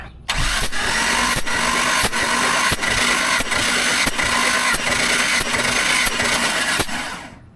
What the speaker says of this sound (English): Cone lined up to your spark plug hole and get a little grip to it and push in, turn it over.